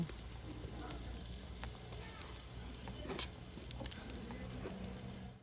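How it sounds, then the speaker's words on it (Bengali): Vegetable khichuri with salt and chili powder being stirred and mixed in a pot, a steady sizzle with soft scraping and occasional clinks of the spoon running throughout. "এবারে সব কিছু ভালো করে এইভাবে মিশিয়ে নেব"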